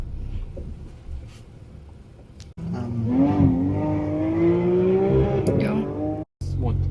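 A 2021 Porsche Panamera pulls away from a standstill, its engine rising in a smooth climbing tone as it accelerates, heard from inside the cabin with people talking over it.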